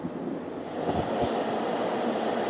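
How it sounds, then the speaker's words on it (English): A steady low rumble and broadband wash, like a train rolling past at a moderate distance in Fukuoka, Japan, continuous throughout with no voices. "So many trains."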